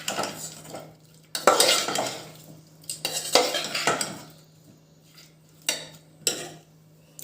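A spoon scrapes and clinks around a pot, stirring ground coriander into a paneer biryani base in repeated bursts with brief pauses, over a faint steady hum.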